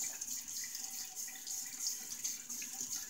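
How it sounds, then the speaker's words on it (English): Tap water runs steadily into a sink for rinsing after a shave, a continuous hiss-like splash at moderate level with slight fluctuations and no talking. "let me get a quick rinse."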